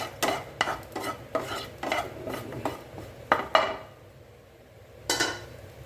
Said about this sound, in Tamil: இப்போ நல்லா இதை வறுத்து எடுத்துக்கலாம்.